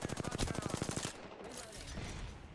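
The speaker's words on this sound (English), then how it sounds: "Shots fired" Rapid automatic video game gunfire rattles in a fast, evenly spaced burst for about a second, then cuts off, leaving a quieter tail of faint distant shots and background noise.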